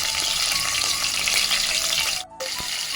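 Green chillies and dried red chillies sizzling in hot oil for sambar, a close steady hissing fry with faint crackles that drops out briefly near the end before resuming.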